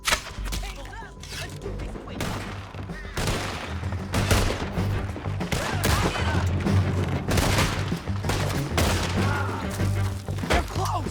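Heavy gunfire in a video game shootout in Red Dead Redemption 2, rapid overlapping shots and booming blasts filling the scene continuously at loud volume, with shouted voices mixed in.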